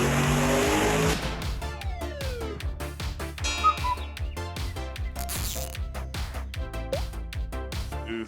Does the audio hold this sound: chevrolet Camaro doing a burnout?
yes